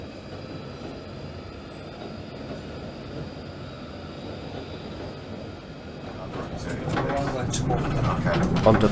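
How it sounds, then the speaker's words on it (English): A London Underground 1995 stock train on the Northern line runs from Edgware, with a steady rumbling roar of wheels and motors that swells louder with rattling and squealing toward the end. "We ride aboard a 1995 stock train for the long journey down to Morden."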